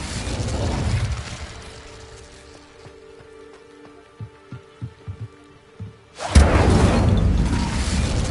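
The Incendio fire spell cast in Hogwarts Legacy: a broad rushing roar fades out, a few soft thuds and tones follow, then a sudden loud fiery whoosh bursts in and keeps roaring to the end.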